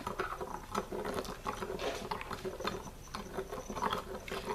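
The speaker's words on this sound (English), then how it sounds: "you can hear the grit, you can see the grit on the spoon" Gritty washing soda scrapes and grinds against a spoon as it is stirred, a faint close-up patter of rough crunchy rasps repeating in short irregular strokes.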